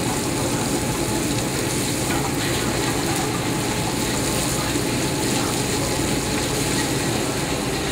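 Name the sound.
pork and beef Swedish meatballs browning in a pan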